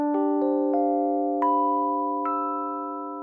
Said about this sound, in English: So without the Haas delay, the E piano would sound like this.